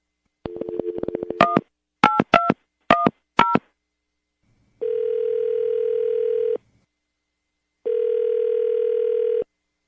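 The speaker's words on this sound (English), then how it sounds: "We're going to call her right now, get her on the phone" A telephone call being placed: a quick series of touch-tone dialing beeps in irregular bursts, then two long, steady ringback tones separated by a pause, clear and close with no talking.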